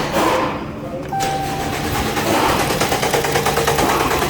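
A 2018 Jeep Cherokee 2.4L engine cranks steadily without catching, a loud continuous rhythmic starter churn that runs for several seconds with no voices over it.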